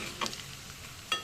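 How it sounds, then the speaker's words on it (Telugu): A tempering of dry red chillies, garlic and asafoetida sizzles in hot oil, two brief bursts of crackling with a soft stir between them, close and fairly quiet. "మన పోపు రెడీ అయిపోయింది కనుక ఈ పప్పు తీసుకుని ఇందులో వేసుకుందాం."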